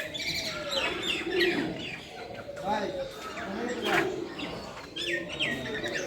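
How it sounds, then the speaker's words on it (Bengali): Lovebirds, parrots and other caged birds chirp and tweet in a zoo enclosure alongside ducks, giving a steady, moderately loud chatter while a person talks over the calls. "লাভবার্ড, লাভবার্ড, এটা হচ্ছে লাভবার্ড।"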